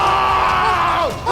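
A woman screams at a remote campsite in a horror film, one loud, sustained, strained cry that bends sharply downward in pitch near its end.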